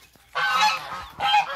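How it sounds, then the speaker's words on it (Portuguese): A male goose gives two loud, harsh honks close by, the first long and the second shorter after a brief pause. "Barulho característico do ganso macho."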